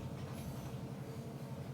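A light train runs on a model railroad layout, giving a steady low rumble with faint rhythmic clicking throughout, alone and at an even, moderate level.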